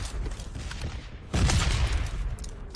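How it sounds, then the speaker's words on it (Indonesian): UMP submachine gun fire in PUBG on the Miramar desert map, a quick rattling burst of shots, with a louder, closer volley arriving partway through. "Pakai UMP tembak aku."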